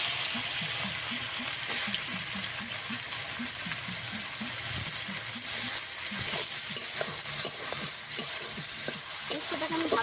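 Bitter gourd sizzling in hot oil in a wok, a loud, continuous frying hiss with irregular crackles and pops throughout, close and without talk.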